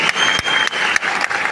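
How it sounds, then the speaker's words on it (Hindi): Audience applause at a network marketing motivational speech, a loud burst of many people clapping together with a few sharp individual claps standing out in a short, dense stretch. "दिल से ताली होना चाहिए"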